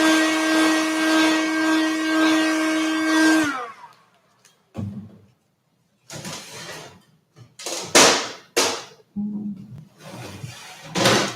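A heat gun warms the top edge of a chocolate piece with a steady, loud whirring hum for about three seconds before cutting off, followed by scattered short knocks and some talking.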